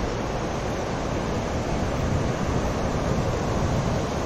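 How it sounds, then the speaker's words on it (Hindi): River water rushing near a riverside village in the hills, a loud, steady broadband roar that fills the whole stretch with no pauses and no voices. "बहुत मधुर आवाज है पानी की"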